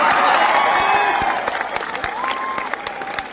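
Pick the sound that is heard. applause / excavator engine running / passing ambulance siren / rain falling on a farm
applause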